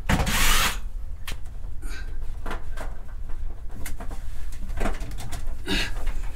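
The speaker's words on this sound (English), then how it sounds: "I'll pull these screws off the floor." A power driver with a 5/16 socket backs out the screws of floor hold-downs for an Ariston Splendide washer in an RV, giving a loud whir at the start, then short intermittent bursts and clicks.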